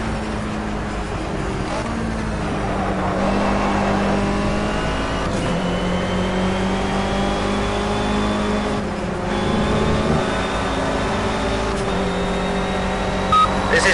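A race car engine in the Project Cars racing game drones steadily and loudly throughout, its pitch rising and falling through gear changes and revs.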